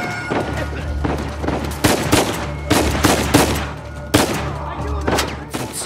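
Bursts of gunfire from a firefight in the video game Uncharted 4: A Thief's End, sharp repeated shots and volleys crackling over a low, steady game soundtrack.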